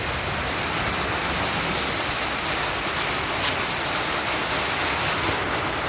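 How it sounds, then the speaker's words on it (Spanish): Heavy rain pouring down in Tocoa, Colón, Honduras, a loud, dense and steady hiss of downpour on surfaces that fills the whole scene without a break. "se vino la lluvia aquí en Tocoa"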